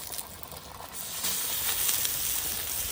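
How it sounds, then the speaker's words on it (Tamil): Dried fish sizzling as it fries in a pan, a steady bright hiss of hot oil that swells louder partway through and holds as a continuous crackle, with no voices. "என்ன காஞ்சித்த மீன் எடுத்து வறுக்க போகிறோம்."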